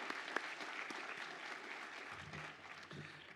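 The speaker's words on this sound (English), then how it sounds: "Let's give them a well-deserved round of applause." Audience applause at a University at Buffalo commencement ceremony, a steady wash of many hands clapping at moderate distance, easing slightly toward the end.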